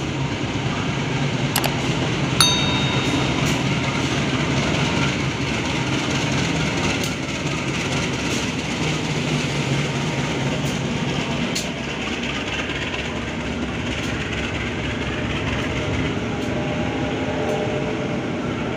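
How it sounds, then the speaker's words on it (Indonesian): The KA Singasari passenger train rolls into Klaten station and brakes to a stop, a long, steady rumble of wheels and carriages with occasional sharp metallic clanks and squeals close on the platform. "Alhamdulillah KA Singasari sudah datang di stasiun Klaten."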